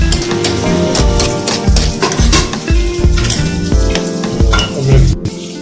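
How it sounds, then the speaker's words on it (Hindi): Chicken karahi sizzling and frying loudly in hot oil, with steady crackle and spatter throughout and a few stirring scrapes and metal clinks from the pan. "अब आप डालिए इसमें ऑयल"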